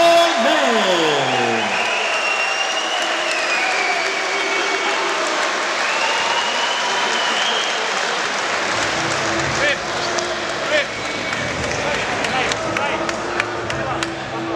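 Crowd applause and cheering at a boxing event after a split decision, a continuous noisy clapping wash mixed with whistles and voices, with a tonal sweep early on and scattered shouts through the middle and end.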